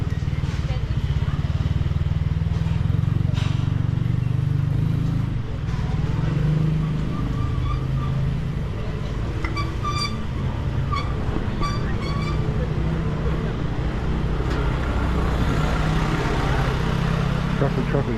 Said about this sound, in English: Traffic certainly got worse since I've been down here.